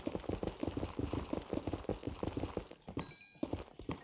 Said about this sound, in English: Why does the footsteps sound so weird?